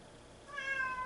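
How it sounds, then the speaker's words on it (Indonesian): A single short cat meow rises faintly in the background near the end, thin and tonal over a quiet room hiss. "Sorry ya, ada suara kucing ya."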